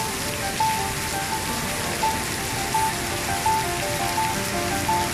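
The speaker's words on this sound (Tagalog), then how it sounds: "Palakas ng palakas ang ulan." Heavy rain pours down on the National Stadium in Singapore in a dense, steady hiss, with drops pattering hard on nearby surfaces.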